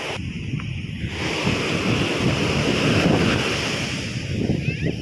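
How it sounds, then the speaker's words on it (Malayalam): Ocean waves break and wash continuously on the Kochi coast, a loud rolling surf roar mixed with wind buffeting the microphone. "ഈ തിരമാലകൾ ഇങ്ങനെ നിൽക്കുന്നില്ല ഒന്ന് അടിച്ച് കയറി വരുമ്പോഴത്തേക്കും തന്നെ അടുത്തത് വരികയാണ്"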